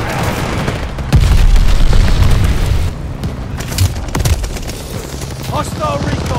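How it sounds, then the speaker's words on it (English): Glide bomber explosions in the video game Call of Duty: Vanguard: a heavy, rumbling blast swells up and holds for nearly two seconds, then gives way to scattered thuds and crackling bursts over a loud, dense battle din. "Enemy's got a glide bombing coming."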